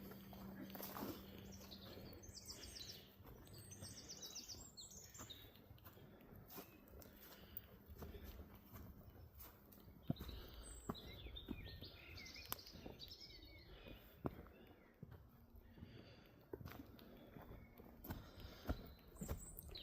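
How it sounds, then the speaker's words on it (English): Birds chirping and singing through a spring evening at an old colliery site in full bloom, with scattered high calls over a steady outdoor background, soft footsteps on boggy ground and occasional voices. "Them bird sounds are absolutely superb."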